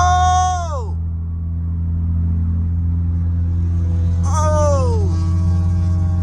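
A passing car's engine revs loudly twice, each burst rising then dropping in pitch as it goes by, heard from inside a BMW F30 328i over its steady low engine drone and road rumble.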